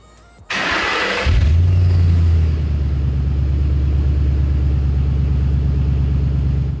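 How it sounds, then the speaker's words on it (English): A 2005 Ford Mustang with an MBRP aluminized 2-1/2 inch axle-back exhaust starts after a brief clunk, flares up, then settles into a loud, steady, deep idle rumble heard alone. "Our MBRP Axle-Back definitely looks better."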